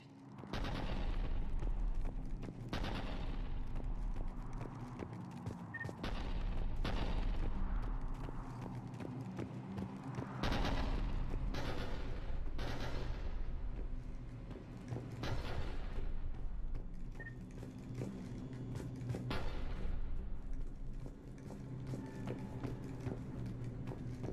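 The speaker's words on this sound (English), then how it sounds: "The cannon fire is clearing the way." Heavy cannon fire on the planet Tuchanka in the video game Mass Effect 3, with loud booms recurring every few seconds over a constant low battle rumble.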